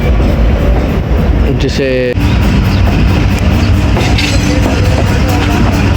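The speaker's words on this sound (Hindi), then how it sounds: "चलें जी दोस्तों 15 अप का डिपार्चर हो गया।" The 15 Up Karachi Express rumbles loudly along the rails after departing on its Multan to Lahore run, a dense steady roar with brief squeals and clatter, while someone talks over it.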